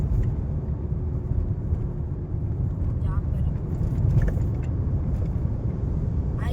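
A car speeding at around 100 through the long Igatpuri tunnel produces a steady, dense low road roar and rumble that fills the whole stretch at moderate loudness, with faint occasional rattles on top.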